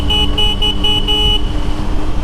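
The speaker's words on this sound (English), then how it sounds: "Yep, we have to honk." A car horn sounds in a run of short toots inside a highway tunnel on Highway 2 in the Cascades, loud and close over steady road and engine rumble with no voices.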